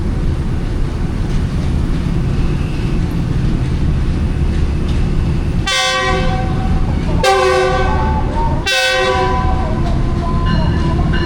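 Green Line Express trains crossing on a Pakistani railway line, a steady rumble of wagons under three loud horn blasts from the passing drivers, each held about a second, spaced a second or so apart.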